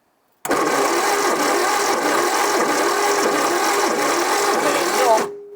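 A Mk1 Ford Cortina engine in an abandoned barn find being cranked over by its starter with points not sparking, a loud steady whirring churn starting abruptly and running about five seconds without catching, then cutting off.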